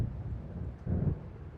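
A low, distant rumble of thunder from an approaching storm over open water in the video game Alan Wake, quiet and steady, swelling briefly near the end.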